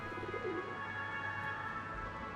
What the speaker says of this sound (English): Hi, pigeon. You're looking right at me.